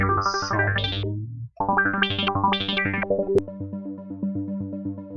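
Synth rhythm patch played in the Wusik Station sampler: distorted, chorused pulsing notes in a repeating pattern with bright stabs, a short gap near the start, then a steady loop.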